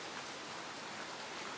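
Heavy rain in Kuang, falling as a steady, dense hiss of broadband noise with no breaks and no voices.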